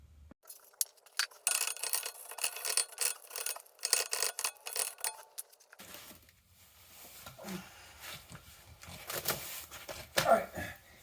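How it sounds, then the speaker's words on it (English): A wire brush scrubs the brake rotor hub of a 2016 Tesla Model X 90D after brake cleaner, giving rapid rasping strokes close by, dense at first and then sparser and more irregular. "we're gonna throw some brake cleaner on there and then hit it with a wire brush"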